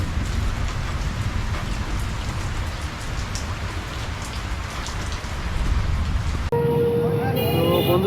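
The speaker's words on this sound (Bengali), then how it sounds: "তোমাদের দেখাচ্ছি বাইরে কী পরিমাণ বৃষ্টি হচ্ছে" Heavy rain pours steadily outside, a dense, loud hiss of drops on surfaces throughout, with a brief change in the sound near the end.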